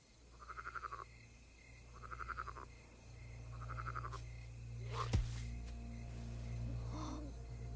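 Frog croaking in the video game Black Myth Wukong, three evenly spaced rhythmic croaking bursts over a low steady game ambience, followed by a sharp whoosh and fainter sounds, no talk.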